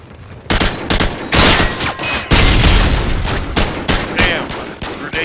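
Grenade blast in Modern Warfare 2 amid a loud online firefight, heavy booming bursts and rapid gunfire crowding together in dense, chaotic waves close by.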